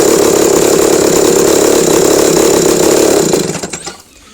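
A trike powered by a chainsaw engine idles with a steady, loud buzzing rumble, then sputters and dies away over its final second as it is shut off.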